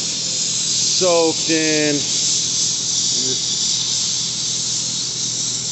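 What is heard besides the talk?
spraying carb cleaner from an aerosol can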